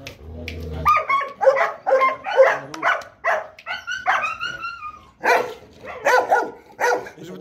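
A dog on a farm under construction barks and yips repeatedly in short bursts, close and fairly loud, with some whimpering whines between barks and no talking.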